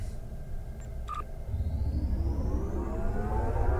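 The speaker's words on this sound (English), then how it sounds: "let's warp off to our next patrol mission" Starship warp jump in the Star Trek Online video game: a low rumbling swell that builds after a couple of short electronic tones, growing louder toward the end with no speech.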